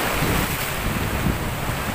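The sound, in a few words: strong ocean waves at a rocky shore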